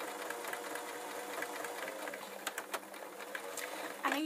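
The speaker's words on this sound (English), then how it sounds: "all I'm doing now is I'm sewing the thumb seam." A sewing machine runs steadily, stitching the thumb seam of fleece fingerless gloves, a fast, even mechanical whir close by, with a few clicks and a brief stop at the end.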